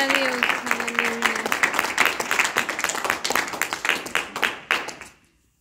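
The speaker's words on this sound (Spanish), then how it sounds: "Dale una ofrenda de palmas también." A church congregation claps in a lively, sustained round of applause that tapers and stops abruptly near the end, with a voice speaking briefly over the start.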